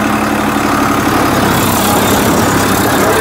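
A tractor engine runs steadily at about 1500 rpm while driving a rotavator, a loud, continuous low rumble with mechanical vibration and no speech.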